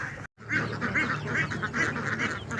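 Ducks at a duck farm with around two hundred birds keep up a dense, continuous chorus of nasal quacks and honks, close and fairly loud, many calls overlapping without pause.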